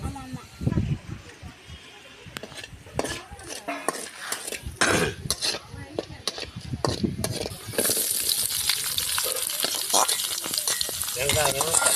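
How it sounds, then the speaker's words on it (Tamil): Dried fish frying in a pan over a village cooking fire, crackling sizzle with spoon stirring and clinks of metal cookware, sizzling growing steadier and louder toward the end, with voices talking nearby. "கருவாடு வறுக்க போகிறோம்"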